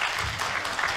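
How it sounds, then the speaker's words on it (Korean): Conference attendees clap in welcome for academy director Kim Hye-won, who presents on digital management for private academies. The applause is steady and fairly loud throughout the brief moment, with no voices over it. "학원 디지털 경영에 대한 주제로 발표해 주실 김혜원 원장님을 박수로 모시겠습니다."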